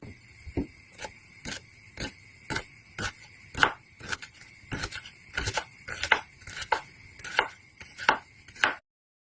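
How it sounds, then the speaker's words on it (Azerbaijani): Steady knife chopping of onions on a cutting board, around fifteen crisp, fairly regular strokes close by, with no talking. "İndi isə gəlin soğan doğrayaq qovurmaq üçün."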